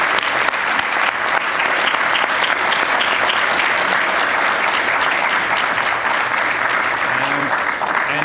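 Sustained audience applause for conference volunteers at a learning analytics conference closing session, a dense steady wash of many hands clapping throughout at even loudness, with faint voices underneath.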